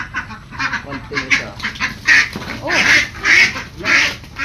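Several ducks being sold at a market quack loudly and close by in a rhythmic series of honking calls, with one person giving a brief exclamation.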